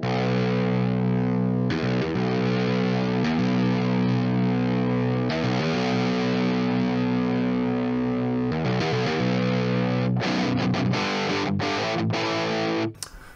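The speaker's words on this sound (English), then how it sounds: "now this is a good crunch tone." A distorted electric guitar through a Line6 HX Stomp rings out sustained crunchy chords, with a few brief pauses and choppy cuts between strums, loud and alone.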